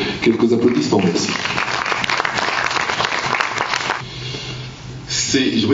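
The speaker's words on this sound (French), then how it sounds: "Camille Pelage avec quelques applaudissements" Applause from an audience at a Route du Rhum press conference fills the room, a sustained wash of clapping, with voices heard at the start and end.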